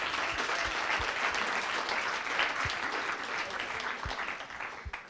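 An audience at a university entrepreneurship evening in Bozen-Bolzano claps for first-year students, a dense, sustained round of applause that holds steady for several seconds before thinning at the end.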